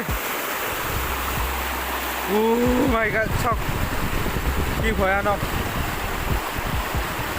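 Rushing floodwater surging across a road during a severe flood in Assam, a loud, steady broadband roar close by, with an excited voice speaking over it.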